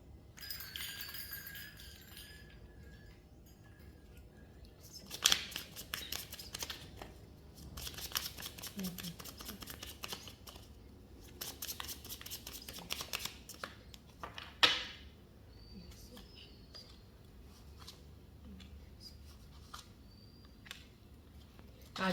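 Tarot cards being shuffled by hand in bursts of soft riffling and flicking, with quiet gaps between rounds and a few sharper card snaps, heard close and alone without talk.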